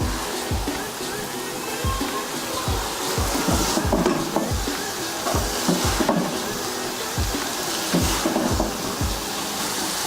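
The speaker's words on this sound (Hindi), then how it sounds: "अब हम हाई फ्लेम पर 2 से 4 मिनट तक इसको भूनेंगे।" Potatoes and green onions fry over a high flame in a pan, with a steady loud sizzle broken by regular rhythmic scraping and stirring strokes close by.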